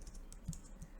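Fast, light keystrokes on a computer keyboard, close and steady, a brief run of typing with no voices.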